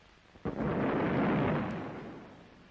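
Dynamite salvo blasting inside a railway tunnel under construction in 1952, a sharp onset followed by a long, loud rumbling roar of closely merged explosions that slowly decays, with no voices.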